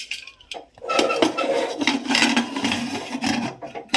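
Metal cake bowl lowered with tongs into a pressure cooker, giving close metallic scrapes, clinks and rubbing knocks over a few seconds, without speech.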